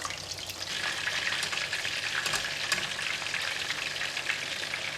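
A whole seabass frying in a pan, cooking toward crisp and sweet-and-sour serving, gives a steady, dense sizzle with scattered crackles and pops, close and even throughout with no voices.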